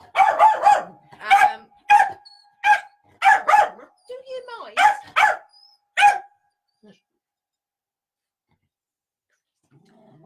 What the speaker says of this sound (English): Please excuse the woof.